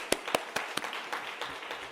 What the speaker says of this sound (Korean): 하나님께 감사합니다라는 박수 한번 크게 치고 설교 마칠게요